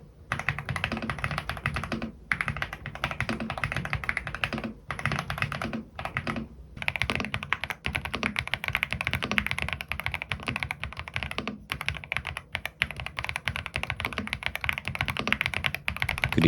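Steady, fast typing on a Gravasta K1 Pro mechanical keyboard with linear switches, soft muffled clacks in a continuous stream with a few brief pauses between bursts.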